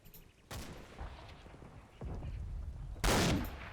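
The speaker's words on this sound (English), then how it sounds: "it's a rifle grenade" Rifle grenade fired in the tank-war game Combat Mission: Battle for Normandy, heard as several sharp bangs, the last one the loudest, over a rumbling battlefield background.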